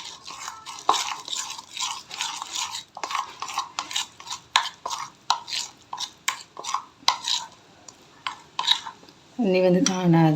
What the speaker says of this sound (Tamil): தண்ணி சேர்த்து மிக்ஸ் பண்ணி விட்டுருவோம்.